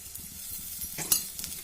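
Two to three teaspoons of oil sizzle softly in a pan while a chutney cooks, a quiet steady frying hiss with a brief clink of a utensil partway through.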